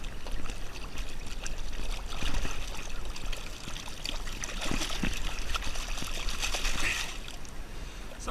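Gold concentrates are panned in water on a beach at night, with continuous sloshing and trickling, splashes and swirls at close range, and brief soft clinks in between.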